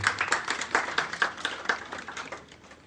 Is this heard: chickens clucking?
no